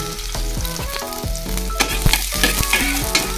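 Chopped garlic dropped into hot oil in a pan, frying with a loud continuous sizzle and crackle, popping bursts growing busier toward the end, no talk.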